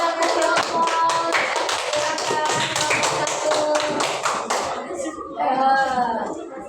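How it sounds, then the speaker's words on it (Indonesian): Classroom applause from a group of students, a dense run of hand claps and taps with cheering voices mixed in, ending in a brief patter of scattered claps and chatter. "kita kasih aplaus"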